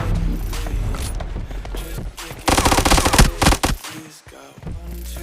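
Automatic gunfire crackles in PUBG Mobile Lite during a TDM match, with rapid bursts that swell loudest in the middle, then drop away before scattered shots return near the end.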